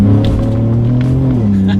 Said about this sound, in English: I'm going to test out the paddle shifters first here